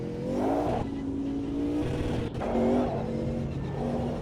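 A Sauber C9 race car with a V8 engine, driven in Automobilista 2 at Silverstone, revs hard through the gears, its rising engine note broken by two brief dips at the shifts, loud and close with no talking.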